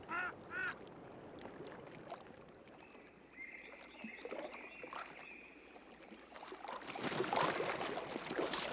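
Newly returned migrating waterfowl, drakes and hens in spring courtship, give honking and quacking calls from a flock on the water, a couple of clear nearby honks at first, then scattered distant calling and a louder splashing burst near the end.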